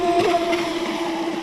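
A Rage RC Black Marlin EX brushless electric RC boat runs across the water, its motor whining steadily at close range with a continuous rushing hiss of spray behind it.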